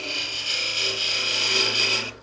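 A skew chisel makes a peeling cut on a wood lathe running around 1700 rpm, giving a steady close rasping hiss over the motor's hum before it stops abruptly near the end.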